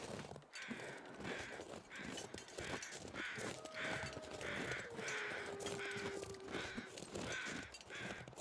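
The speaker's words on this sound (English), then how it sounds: "the sound of the bear crow versus the regular crows" Crows caw repeatedly in The Long Dark survival game, a steady series of harsh calls over rough outdoor wind ambience, moderately close and unbroken by talk.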